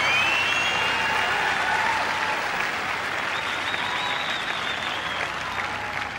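Tennis crowd at Queen's Club applauding during a 2005 third-round match between Murray and Johansson, steady dense clapping that holds loud throughout before easing slightly near the end.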